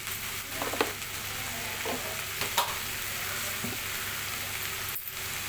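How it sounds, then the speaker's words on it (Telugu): Ivy gourd fry sizzles in a pan while salt, turmeric and coriander powder are stirred through, a steady frying hiss broken by a few spoon scrapes and knocks. "ఇవన్నీ వేసుకొని అయితే ఒకసారి కలుపుకోవాలన్నమాట ఇలా మనకు ఉప్పు పసుపు అంతా కిందికి మీద కలిసేలాగా"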